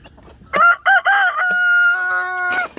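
A Black Marans or Easter Egger rooster in a hooped coop lets out a loud, close crow with a rising, held cock-a-doodle-doo, preceded by a couple of short clucks and a faint rustle.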